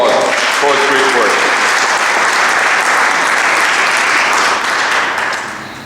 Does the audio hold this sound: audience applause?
yes